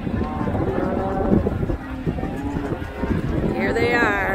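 A herd of cattle crosses the Texas Colorado River near Matagorda on a cattle drive, with several low, drawn-out moos from cows close by. Someone talks over them throughout.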